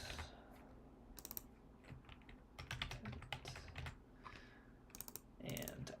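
Fast, irregular clicking of keys on a computer keyboard as text is typed in, fairly quiet and close, with short pauses between bursts and no voice.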